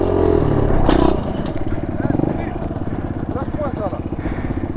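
A DR-Z 125 dirt bike puts out a rapid, pulsing engine note as the throttle opens for a wheelie, the revs rising and then chugging along nearby while someone talks over it.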